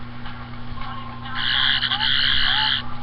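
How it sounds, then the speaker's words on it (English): A toy Doctor Who sonic screwdriver gives off a shrill, steady electronic whine over a low hum, swelling louder for about a second and a half before cutting off. "it basically sounds like the screwdriver on the episode when they were in the library"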